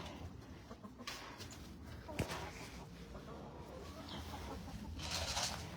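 Chickens clucking inside a chicken run on a cold afternoon, soft scattered clucks and scratching at low level, with a sharp knock midway and faint background noise.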